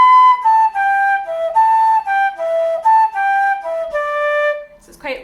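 A flute plays a long traditional tune phrase alone, a clear melodic line of sustained and slurred notes in steady rhythm, ending with a soft breath.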